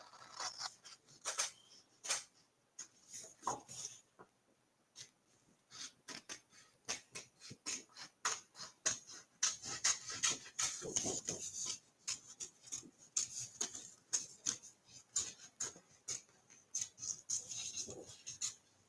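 Scissors cutting out a paper Christmas tag, a close, quiet run of crisp snips and paper rustles in an irregular rhythm.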